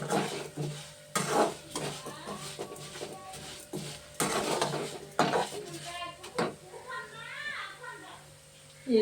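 Fried pieces being lifted out of a frying pan with a metal utensil, producing repeated close clinks and scrapes against the pan over a faint sizzle, with a few gentle bumps toward the end.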